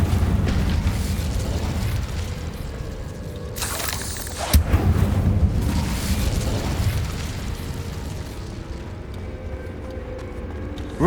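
A fire spell, Incendio, cast in Hogwarts Legacy on PC, bursting into a loud pop and fiery boom amid ongoing game effects and rumbling.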